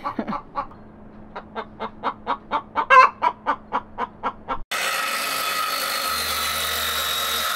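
Chickens on a barn-building site cluck in a quick rhythmic series of about a dozen close, clear calls, then give way to a steady mechanical hum.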